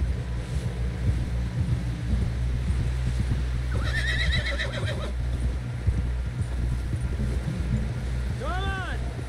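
Horse in Red Dead Redemption 2 whinnies with a clear rising-falling neigh near the end, over steady hoof clip-clop and a low rumbling wind-blown ambience throughout.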